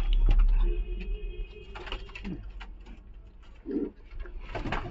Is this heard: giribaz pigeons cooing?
yes